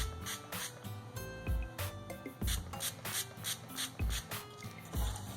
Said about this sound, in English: all you do is just spray, and you want to make sure that you saturate your lace